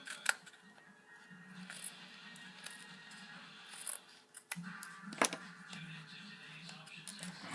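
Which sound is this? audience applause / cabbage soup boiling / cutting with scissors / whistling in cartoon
cutting with scissors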